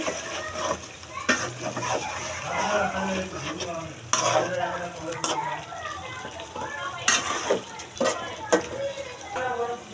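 A cauliflower biryani mixture is stirred in a pan, with repeated scraping and clattering strokes over a low sizzle and occasional wet splatter, while a person talks alongside.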